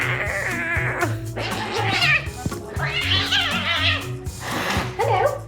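A Bengal cat at the vet gives repeated meows and caterwauling wails, close and loud, mixed with a person talking over it.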